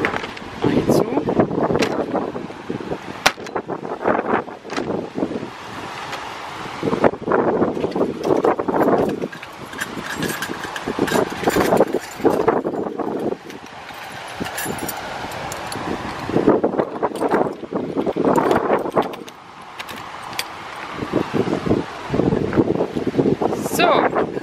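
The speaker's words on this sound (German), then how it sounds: "Es ist halt richtig windig, aber es ist nicht so schlimm." Strong wind at the seaside buffets the microphone in loud, rumbling gusts that rise and fall throughout, while people talk beneath the roar.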